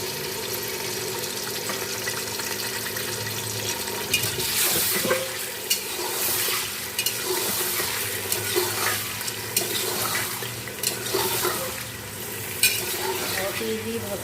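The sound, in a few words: meat frying with onions in hot oil in a cooker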